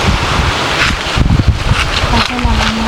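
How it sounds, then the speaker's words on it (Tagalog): Strong wind buffets the microphone in a constant roaring rush with gusty swells, and a brief low hum surfaces near the end. "sobrang lakas ng hangin guys"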